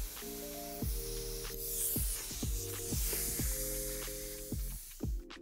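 Low-pressure spraying from an LPH-80 spray gun during a spot repair, a steady airy hiss running throughout at close range, with repeated tonal thumps and swoops from background music layered over it.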